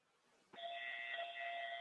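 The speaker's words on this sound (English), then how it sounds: "That was fire alarm. Perfect timing." A fire alarm suddenly starts and holds a loud, steady electronic tone with bright harmonics, sounding indoors after a quiet moment with no talking.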